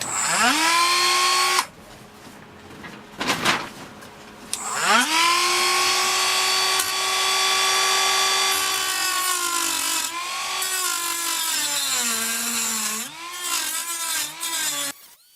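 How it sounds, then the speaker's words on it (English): Dremel rotary tool grinding a fiberglass crossbow prod: a high whining motor that starts, stops and restarts several times, its pitch dipping and rising as the bit bites into the material, with no talking. "Dremel time."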